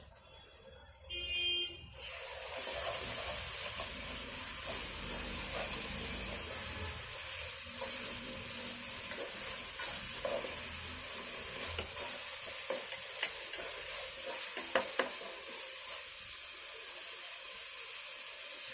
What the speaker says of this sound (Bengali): পেঁয়াজটা নরম হয়ে আসছে এখন এর ভিতরে দিয়ে দেব তিন টেবিল চামচ আদা রসুনের পেস্ট